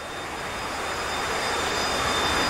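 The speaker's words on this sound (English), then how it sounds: "F-16s taxiing towards us." F-16 fighter jets taxi at an air base in a war game, producing a steady, loud jet-engine roar that swells slightly, with no voices.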